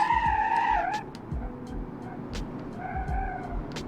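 An electric car in the BeamNG.drive video game whirs along the Nurburgring with a rising and falling high-pitched whine, tyres rumbling beneath, and a brief pause before the tone returns.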